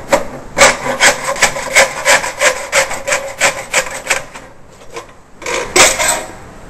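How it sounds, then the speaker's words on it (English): A hacksaw cuts through a plastic spouting gutter in a run of about a dozen quick, rhythmic back-and-forth rasping strokes, loud and close, then a brief pause and a few final strokes. "So the hacksaw is positioned so that we'll be able to cut all the way through that spout"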